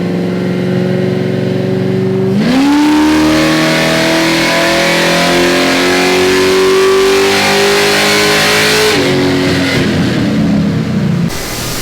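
A nitrous-equipped Mustang engine on a dyno surges into a loud, sustained rev that climbs steadily for several seconds, then cuts back sharply to a rough idle.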